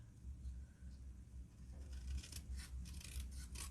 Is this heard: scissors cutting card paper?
yes